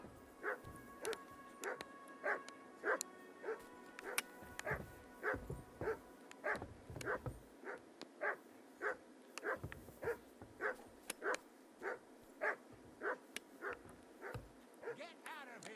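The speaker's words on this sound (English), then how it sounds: "No one wants to hear your barking." Dogs bark repeatedly in Kingdom Come: Deliverance 2, a steady run of sharp, evenly spaced yips and barks over about fifteen seconds, fairly close and moderately loud, with ambient game noise underneath.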